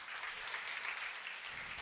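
A church congregation at a Korean Sunday worship service bursts into steady, evenly sustained applause, a soft wash of many hands clapping together with no voices over it.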